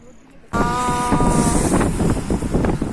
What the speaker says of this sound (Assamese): পুৰা বতাহ মাৰি আছে